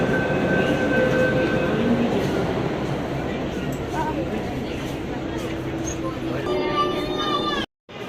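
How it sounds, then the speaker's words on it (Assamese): A metro train pulls into a station in Delhi, a steady loud rumble of wheels and motors with a rising electronic whine near the end, heard under a voice talking throughout. "আৰু ফাইনেলি আহি পালোঁ আমাৰ ট্ৰেইন।"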